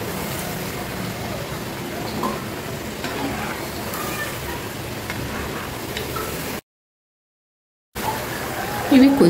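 Semolina and potato snacks sizzle steadily in hot oil, a continuous close frying hiss that runs throughout apart from a brief gap of silence, with occasional soft stirring clicks.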